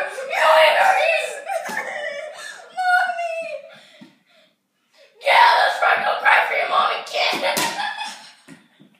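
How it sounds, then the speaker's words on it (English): Several people scream and shriek in loud, frantic bursts, with a brief pause midway before a second wave of high-pitched yelling and cries. "That screaming hurts too much"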